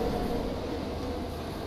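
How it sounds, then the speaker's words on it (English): Toy trains rumble along in a train station video game, a brief, steady, moderately loud rolling rail clatter with no talk over it. "turn off the choo-choo trains."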